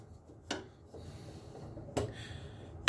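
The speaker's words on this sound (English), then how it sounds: "Now I can put the blade cover back on." A blade cover being fitted back onto a wood planer: a few quiet scraping, sliding contacts about a second apart, close and soft, ending in a short sharp knock.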